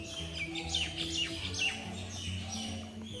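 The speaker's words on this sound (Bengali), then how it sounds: "সকাল থেকে পাখিগুলো যা শুরু করেছে ডাকাডাকি একেবারে চিৎকার চারিদিক থেকে" Many birds chirp and call from all around on an overcast morning, a busy overlapping chorus of bright tweets near and far with no one talking.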